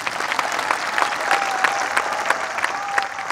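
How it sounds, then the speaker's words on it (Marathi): Steady applause from a large audience at a public convention gathering, dense continuous clapping filling the hall at high level, with faint voices underneath. "त्या गाडगिळी साहेबांसाठी टाळ्या वाजवा"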